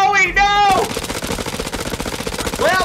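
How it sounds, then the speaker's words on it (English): Gunfire in the horror game House of Ashes: a dense, rapid burst of automatic shots that runs for about two seconds. Shouted voices are heard just before and after it. "Stay out of gunfire!"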